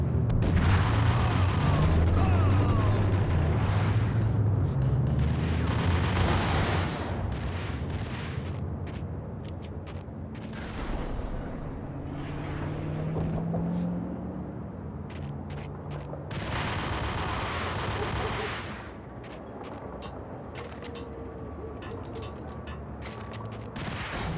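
Gunfire in Max Payne comes as heavy bursts of shots and booming blasts, loud clusters separated by quieter stretches with rumbling echoes.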